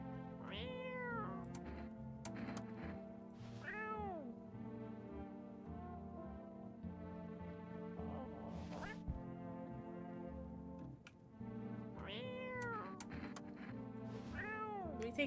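Cat meowing in a video game, several short rising-falling meows spaced across the scene over steady background game music, clear and close.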